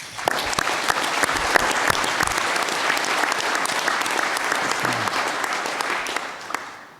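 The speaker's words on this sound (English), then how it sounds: "I think they deserve a huge round of applause" Sustained applause from a union conference audience, dense steady clapping filling the hall for about seven seconds before tapering off at the end.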